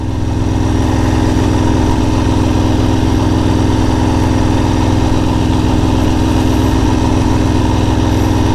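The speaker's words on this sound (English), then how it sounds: "And now we're going. We're going in first gear." Sportbike motorcycle riding in first gear, a constant loud engine drone with steady vibration throughout and no pauses or talk.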